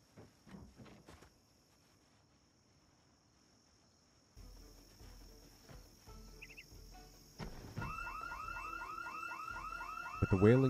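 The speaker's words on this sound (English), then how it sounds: "With the wailing of the alarm now" A car alarm in the Project Zomboid video game rises out of quiet night ambience with crickets, starting faint then wailing louder and steadily repeating, with faint footsteps earlier.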